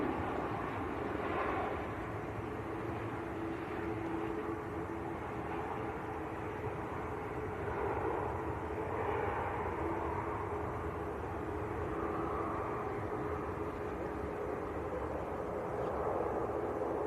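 Ryanair Boeing 737 MAX airliner at Manchester Airport, a distant, faint, steady jet engine roar under a broad outdoor rumble, sustained throughout.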